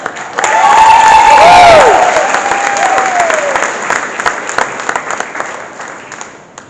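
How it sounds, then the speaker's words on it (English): An audience at an 8th grade graduation bursts into loud applause with a few cheers and whistles, swelling quickly and then tapering to scattered clapping. "One more round of applause."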